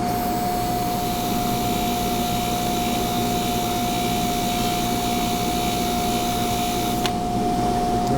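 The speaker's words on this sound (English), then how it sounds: "we're going to hit it with the hard wheel to start" A hard grinding wheel runs steadily on a part of a pen mechanism, taking off toolpath lines; the motor's loud, even whine and tonal hum hold throughout, with the pitch dropping briefly near the end.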